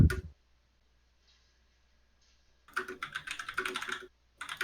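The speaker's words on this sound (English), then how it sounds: "Typing." Rapid clatter of computer keyboard keys during an online Pathfinder tabletop game session, a dense burst of keystrokes after a quiet pause, with a single tap at the start and another at the end, fairly close and without speech.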